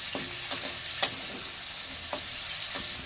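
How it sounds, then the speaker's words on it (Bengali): Onions sizzle steadily in hot oil with dried chilli and nigella seeds, a constant bright frying hiss with occasional soft clicks and stirs of a spatula, close and without talk. "এবার একটু পেঁয়াজ দিয়ে দিলাম। পেঁয়াজটা একটু লাল করে ভেজে নেব।"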